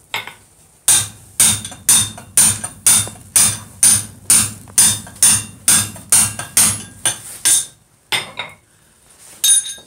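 Hammer blows on hot mild steel during forging while a drift opens a hole, about fourteen loud ringing metallic strikes in a steady rhythm, close by, then a pause and one last hit.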